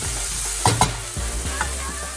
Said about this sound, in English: Just going to quickly give that a little stir and let that brown off for about a minute or so.